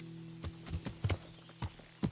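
Horse hooves clip-clopping in the medieval game Kingdom Come: Deliverance, about six uneven hoofbeats over two seconds, moderately close against a faint low hum, with no talking.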